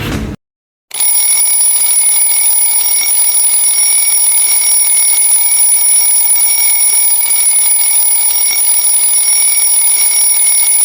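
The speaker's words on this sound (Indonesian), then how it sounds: "Ya alarm gandeng kan." An alarm clock rings loudly and continuously, a harsh buzzing tone that starts after a brief pause and keeps going without a break.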